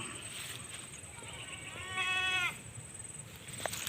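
On a farm, a single drawn-out goat bleat rises clearly above a quiet outdoor background hiss, lasting under a second before fading.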